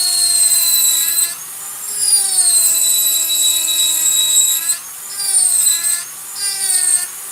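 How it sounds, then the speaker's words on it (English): A Dremel rotary tool with a flame burr cuts into hard maple, a loud high-pitched whine that dips in pitch under load and rises again when eased off, in several close, continuous passes. "I like how this is cutting on the maple. This little flame burr is cleaning it up really nice"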